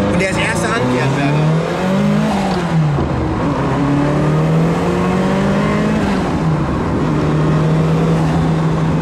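A V10 sports car engine roars loudly while driving, heard up close from the cabin: pitch climbs and drops repeatedly through acceleration and gear changes, with occupants talking over the noise.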